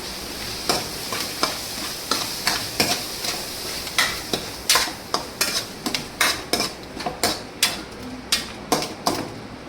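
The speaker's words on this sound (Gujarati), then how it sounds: "પછી એને હલાવી નાખવાનું." A utensil scrapes and clacks against a pan while stirring in garam masala, in a steady series of sharp strokes, with faint sizzling underneath and no talking.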